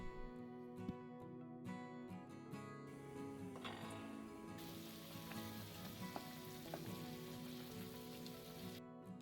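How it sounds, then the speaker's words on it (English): Vegetable soup with everything combined comes to a boil over high heat in a pot, giving a continuous soft bubbling and sizzling like light rain that thickens partway through, faint and steady with no voices. "Combine everything and bring the soup to a boil."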